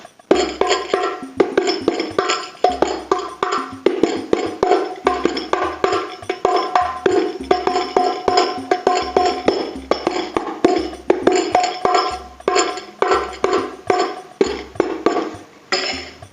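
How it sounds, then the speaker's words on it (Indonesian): A 30 cm hadroh frame drum with a female goatskin head struck repeatedly in a lively rhythmic pattern, deep thumps alternating with sharp slaps and jingly rattles, loud and close with no talking. "ini adalah hadro standar, yaitu diameter 30 cm dan kulitnya menggunakan kulit kambing betina bagian punggung"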